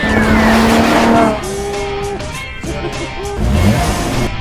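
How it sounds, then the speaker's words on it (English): A Ferrari GTC4 Lusso drives hard, its engine note climbing through gear changes with a brief tire squeal, loud and close. "I can't believe I'm driving this car!"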